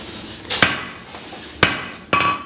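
Three sharp hammer strikes ring out on an anvil while a hatchet is forged, spaced irregularly with a metallic ring after each, close and fairly loud.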